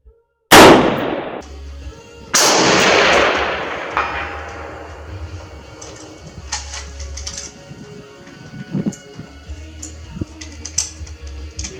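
Rifle shots from an Army Marksmanship Unit SDM-R rifle fitted with a TA-31 optic, firing 55 grain rounds: two loud, close bangs a couple of seconds apart, each followed by a ringing decay, then quieter clicks and handling noises.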